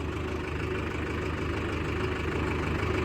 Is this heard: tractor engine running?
yes